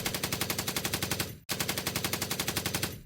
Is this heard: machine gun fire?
yes